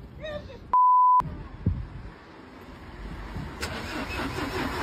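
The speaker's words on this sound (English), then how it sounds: "Is your car not starting?" A car engine cranks and struggles to start during a roadside dispute, with a sharp electronic beep, rough turning-over bursts and background noise.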